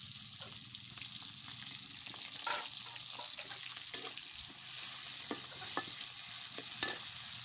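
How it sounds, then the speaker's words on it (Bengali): Chopped onion fries in hot oil in a pan, giving a soft, steady sizzle with occasional clicks of stirring, quiet and close, with no talk. "তো পেঁয়াজটা একটু ভাজা ভাজা হয়ে গেছে।"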